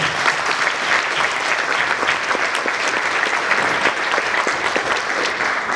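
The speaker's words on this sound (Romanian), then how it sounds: "vă rog să aplaudați, că merită." Audience applause fills a hall at a charity show, a dense, steady clapping that stays loud and even throughout with no talk over it.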